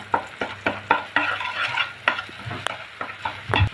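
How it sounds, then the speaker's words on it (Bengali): Beaten egg scrambled and fried with onion in a pan for a pumpkin-flower bhaji, a spatula scraping and stirring in regular strokes over a low sizzle, close up with no talking. "এখন ডিমটাকে আমি একদম ঝুড়ি ঝুড়ি করে নিব।"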